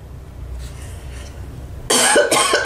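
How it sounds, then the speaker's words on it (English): After a quiet stretch, a person coughs several times in quick succession close to the microphone, loud and abrupt, with no talk around it. "And the coughing."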